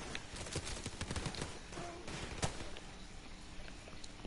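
Gunfire rattles in Call of Duty 4 while the player shoots out TVs that are playing Al-Asad's speech. Quiet, rapid bursts of shots come in the first half, with one sharper crack before the firing thins out against faint game ambience.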